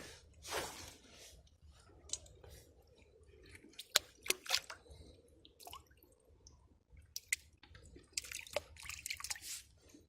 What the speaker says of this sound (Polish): Rybki wracają do wody.